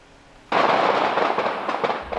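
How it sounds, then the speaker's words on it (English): Gunfire from police officers practicing at the City of Cincinnati shooting range, heard by nearby residents in Woodlawn: an abrupt loud crack that opens into a sustained, rolling burst of shots. "Bullets flying at the city of Cincinnati shooting range"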